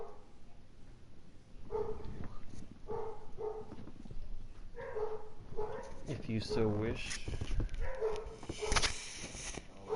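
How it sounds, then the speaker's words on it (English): Several dogs in a room bark, yip and whimper in short bursts, fairly close, interleaved with a man's speech throughout. "I have a lovely bunch of dogs here."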